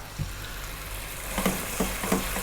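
Tomato paste fries in a pan on fairly lively heat, a constant sizzle with a few soft stirring knocks and scrapes near the end.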